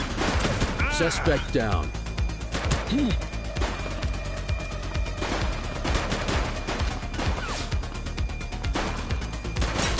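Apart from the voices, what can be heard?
gunfire in a police shooter video game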